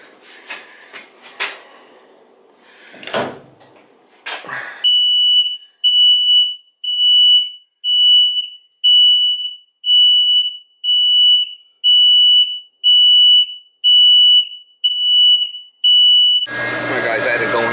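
Alarm on a commercial water pipe booster pump system beeps in a steady series of about a dozen loud, evenly spaced tones after some brief handling noises, then cuts to a burst of broadband noise at the end.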